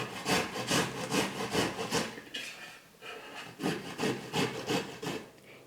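Cauliflower grated by hand on a vegetable grater, giving a steady series of loud, rhythmic rasping strokes, close by, with a short pause midway and no talking.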